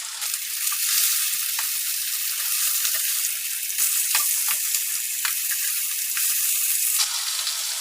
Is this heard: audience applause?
no